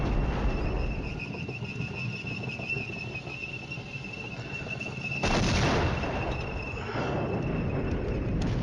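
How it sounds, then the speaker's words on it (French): Artillery barrage landing in the Cold War wargame Flashpoint Campaigns: a steady roar of distant rumbling fire and crackle with a thin whistling tone, swelling into a louder burst of impacts midway. "Ça y est, l'artillerie tombe."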